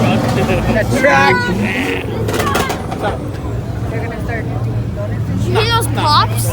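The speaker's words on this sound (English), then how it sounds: "you hear those pops? You're just revving." A car engine at an outdoor car meet idles and revs with sharp exhaust pops, close and loud beneath a chatter of nearby voices.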